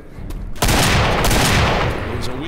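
Gunfire in the Left 4 Dead zombie game, a loud sustained burst of rapid shots that erupts after a short quieter lead-in and keeps rattling at full strength through to the end.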